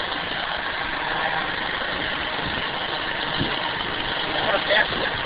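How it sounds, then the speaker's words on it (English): A hydrogen-converted scooter engine runs steadily up close, its mechanical clatter and vibration louder than the engine note itself, with a brief talking voice over the continuous rumble. "You can hear more mechanical noise now than you can the actual engine."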